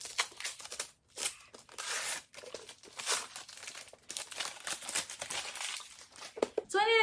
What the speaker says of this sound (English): I'll unwrap a different book